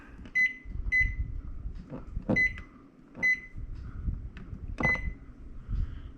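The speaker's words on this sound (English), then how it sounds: "So I'll set the timer here." Several short electronic beeps from a timer's buttons being pressed, spaced irregularly, with kitchen clatter and thumps in the background.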